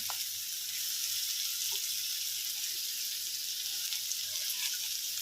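Capsicum and tomato sautéing in oil in a pan give a steady, close hiss with faint soft crackles, continuous and even throughout, with no voices.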